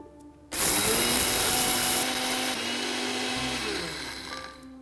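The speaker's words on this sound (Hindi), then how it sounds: "ये सारा दाल जल्दी से इस मिक्सी के जार में" A kitchen mixer grinder switches on abruptly and runs loudly, grinding dried moong dal into a fine powder. Its steady close whirring roar shifts pitch slightly as the load changes, then begins to wind down.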